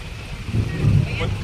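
Strong typhoon wind roars across a fishing boat at sea, a steady buffeting rush with deep low rumble and microphone blasts, while a voice murmurs faintly underneath.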